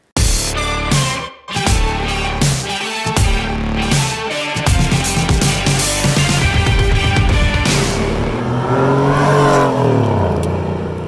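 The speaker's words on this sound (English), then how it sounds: "I love my Fister muffler, but if you want to hear it and you want to find out why" A Porsche 964 with a Fister muffler exhaust revs hard in loud, repeated blips with brief gaps between them, then settles into a sustained rising and falling engine note.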